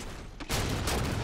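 A rapid burst of DMR rifle fire in Halo 4 gameplay, sharp cracking shots starting abruptly and running on in a dense, loud volley.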